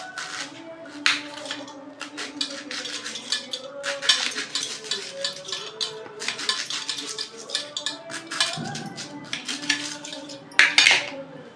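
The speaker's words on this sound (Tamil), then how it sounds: "இதை நல்லா தூளாக அரிஞ்சிக்கலாம்" Knife chopping rolled kalyana murungai leaves finely on a board, a steady run of quick, close taps against a light background of kitchen clatter, with a louder clink near the end.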